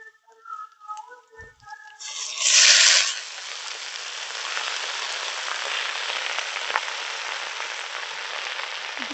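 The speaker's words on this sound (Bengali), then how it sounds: "এবার আমি দিয়ে দেবো এর মধ্যে কুচিয়ে রাখা খারকোল পাতা।" Chopped kharkol leaves hit a pan of frying onions and green chillies, bursting into a loud hiss that settles into steady crackling sizzle; no talking.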